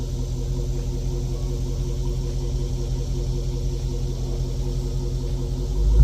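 A Chrysler 300C fitted with an upgraded exhaust idles with a low, steady rumble and a constant droning hum, with a slight swell at the very end.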